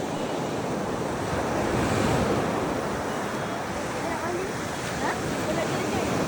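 Sea waves wash steadily onto a beach at a morning campsite, a continuous broadband surf roar with some wind buffeting the microphone and no clear speech.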